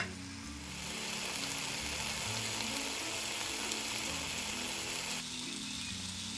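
Thin, already-cured meat slices fry in a pan with a steady, dense crackling sizzle at close range, continuous throughout with no talking.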